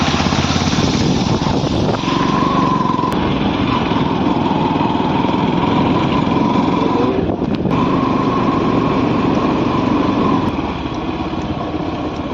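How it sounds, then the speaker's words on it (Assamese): A motorcycle's engine drones steadily while it is ridden toward the Kakochang waterfall, loud and close, with a constant buzzing hum that barely changes and a brief dip partway through. "আমি বাইকত আহিছোঁ।"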